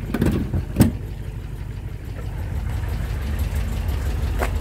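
A 1972 MG B engine idles at a steady low rumble before it is shut down, heard moderately close with a couple of brief knocks near the start and no talk.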